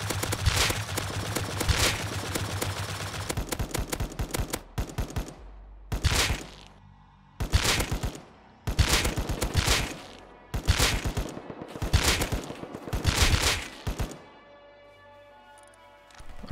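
Bursts of rapid automatic gunfire from a new rifle in the video game Rust, several separate volleys of sharp, fast shots with short silent gaps between them.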